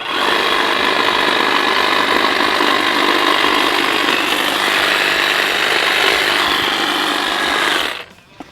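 A STIHL HLA 65 long-reach hedge trimmer cuts branches with a loud, steady, buzzing cutter drone that holds for about eight seconds, then stops abruptly.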